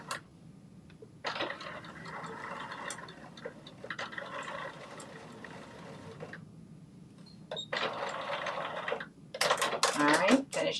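Sewing machine running in short bursts on a New Look 6288 garment, a busy mechanical whir that stops and restarts for a back stitch, with brief clicks and handling noise near the end.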